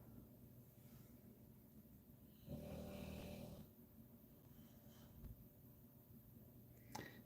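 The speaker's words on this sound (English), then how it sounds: "Even though the snoring dog does not seem to agree." A dog snores nearby, a soft low rumbling breath that swells once into a louder snore and fades back to a quiet, steady hum.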